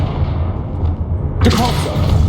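A Confringo blasting spell detonates in Hogwarts Legacy, a sudden loud booming burst midway that follows a quiet stretch of low ambient rumble and rings out with a crackling tail.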